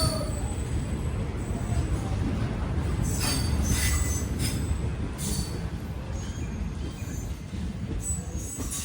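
A passenger train pulls out of Nagore railway station bound for Karaikal, its wagons rumbling steadily and close by, with faint wheel squeals and clatter over the tracks throughout.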